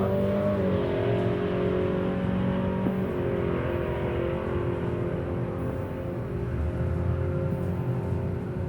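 Drag race car making a solo bye run in the Jackpot class at a Wednesday night drags event, its engine holding a loud, steady, high-revving roar for several seconds with no other car alongside.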